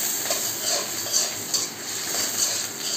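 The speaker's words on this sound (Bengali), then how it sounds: "এই যে তেলটা 3 মিনিট গরম হওয়ার পর এই শুটকিটা দিয়ে দেওয়া হলো।" Dried fish (chepa shutki) frying in hot oil for a pui shak dish, a continuous hiss broken by intermittent spatula scrapes and light clinks against the pan as it is stirred.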